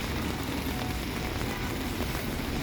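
Rain falls steadily in central São Paulo after a full day of downpour, a dense even hiss of drops on surfaces, constant and close with no voices.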